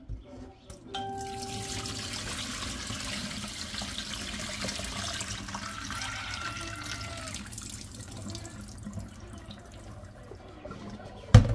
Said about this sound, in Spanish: Ahora le voy a botar el agua.